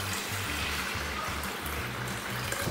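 Water runs into an electric multipurpose kettle as a steady close stream with a low, continuous rushing tone for the whole stretch, while a low hum sits underneath.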